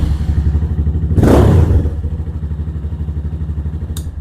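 A Venom Ghost Chopper 250 motorcycle engine starts with a brief loud whoosh and then settles into a close, steady, chugging idle.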